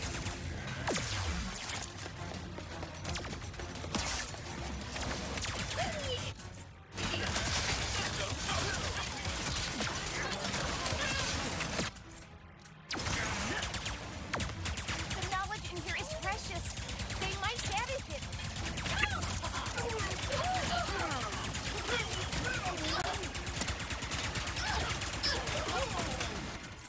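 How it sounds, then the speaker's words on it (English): Sustained weapon fire in Ratchet & Clank: Rift Apart, dense bursts of game gunfire and blasts running almost continuously over busy combat effects and music, with a voice talking at points and two brief pauses. "Must keep shooting."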